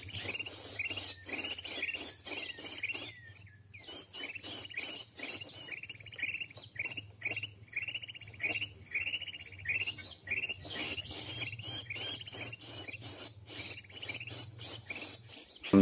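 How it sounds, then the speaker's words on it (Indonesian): Many wild birds chirping and tweeting as they flock onto a tree set with sticky lime traps, dense overlapping calls close by with a steady insect drone underneath, no talking. "burung pun berdatangan dan memenuhi pohon pulut yang sudah kita"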